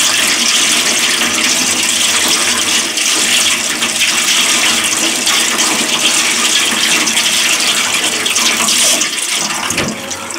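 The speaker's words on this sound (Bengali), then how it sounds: "এখন আমি ডালগুলো সুন্দর করে ধুয়ে দিব।" Running water splashes and gushes as lentils are rinsed by hand, a loud, continuous rushing with small sloshing variations that persists throughout and fades slightly near the end.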